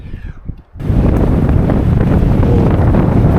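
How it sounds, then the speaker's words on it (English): A strong gust of wind slams in after a brief quieter moment, becoming a loud, continuous roaring buffet across the microphone outdoors among trees. "really feeling those gusts of wind now."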